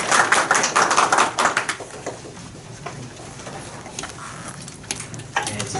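Audience applause at the 5th Waseda e-Teaching Award ceremony, a burst of many hands clapping that is loudest at the start and then settles into softer, sparser clapping across the hall.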